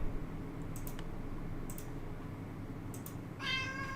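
Pet cat Dot meows indoors, a few short mid-pitched cries near the microphone with a clear harmonic call toward the end, over a steady background hum.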